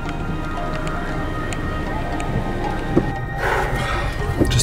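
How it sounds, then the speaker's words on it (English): Rain pours steadily outdoors, a dense hiss of drops close around, with a few louder splashes and a brief rustle partway through; no voices stand out. "the stuff we have to do for shiny weather boosted Pokemon out here in this rain."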